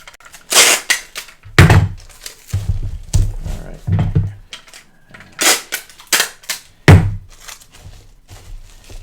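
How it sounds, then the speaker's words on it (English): A tape gun pulls and slaps packing tape across a cardboard box for a coffee maker, sharp screeching rips and loud thuds in a quick uneven series of close, separate bursts. "I'm going to need the tape gun again."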